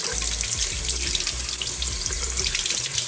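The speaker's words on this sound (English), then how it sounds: "I'm going to turn the water on, cool water" Cool tap water runs from a faucet into a sink, used for rinsing a Philips Series 1000 cordless shaver; a close, steady splashing hiss that carries on without a break and with no voices.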